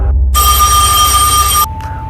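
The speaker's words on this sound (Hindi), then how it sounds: "तभी तारिक का फोन आया।" A telephone bell rings loudly and steadily for about a second and a half, a bright continuous electronic tone that cuts off abruptly, followed by a short fainter tone over a low background hum.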